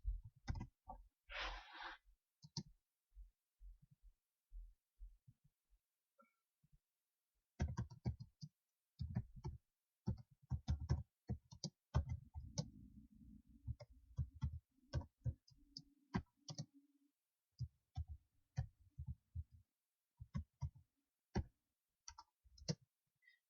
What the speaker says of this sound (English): Sorry for my very slow typing.